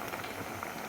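Pot of vegetables in a spiced curry with turmeric and jaggery bubbling on the stove, a soft steady boiling hiss with faint bubbling, quiet and close, with no voices.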